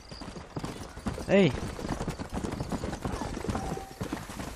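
Horse hooves clip-clop steadily through a Red Dead Redemption game scene, a quick rhythmic patter under ongoing talk, with a shout and a whinny-like burst near the start.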